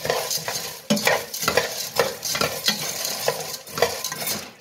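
Soup ingredients toasting in a hot pan while being stirred, a rhythmic series of close scraping strokes about every half second over a light sizzle, no voices.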